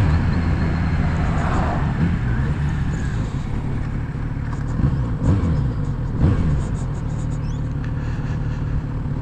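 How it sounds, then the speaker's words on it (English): A Kawasaki Z900RS motorcycle engine runs with a steady low rumble, near and loud, with slight swells in revs during a test ride. "the sound of this bike is fucking awesome"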